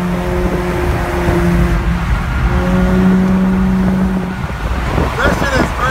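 An Infiniti G37 fitted with ISR test pipes and a full ISR exhaust setup revs hard and loud nearby, its raspy engine roar swelling and falling over several seconds, apparently echoing under an underpass.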